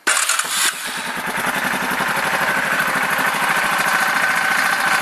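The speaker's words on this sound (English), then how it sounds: "Start the engine." A Yamaha Wolverine 450 ATV engine cranks with a sharp burst, catches, then settles into a steady, rapid idle that runs on without voices.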